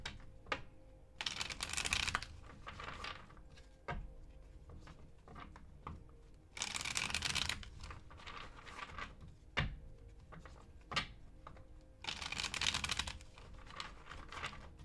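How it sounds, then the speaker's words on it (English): Tarot cards shuffled by hand in three loud bursts of riffling and crisp fluttering, with softer shuffling, taps and handling noises between them, close by. "Let me shuffle these cards."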